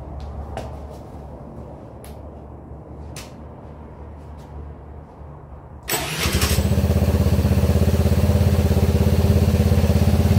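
A 2022 Honda Navi scooter, just fitted with a CVT upgrade and sliders, sits quiet with a few faint clicks, then its engine cranks and fires about halfway through, settling into a loud, steady close idle.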